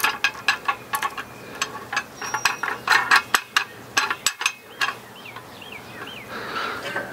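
Ratchet tightening nuts on an RV hitch plate, a rapid run of close, crisp clicking strokes in bursts, then a pause with faint birdsong in the background.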